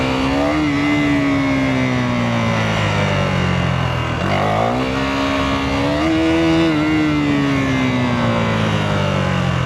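A KTM Duke 390 motorcycle engine revs hard throughout a power wheelie, loud and continuous, its pitch rising, dropping briefly near the middle, then climbing again.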